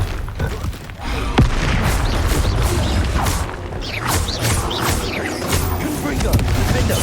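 Spell blasts and explosions from the video game Hogwarts Legacy, loud booms, crashes and whooshing bursts tumbling over one another in a busy, continuous fight.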